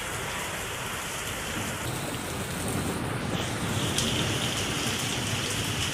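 Heavy rain pours steadily during a two-day festival at Kawardha, Chhattisgarh, a dense, continuous hiss of drops striking surfaces, swelling slightly louder midway with no voices.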